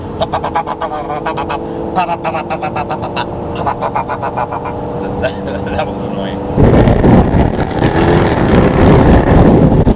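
A Jaguar F-Type sports car at a car cruise with Lamborghinis rumbles as it slows right down, then roars loudly as it accelerates in the last few seconds. Someone talks over the engine.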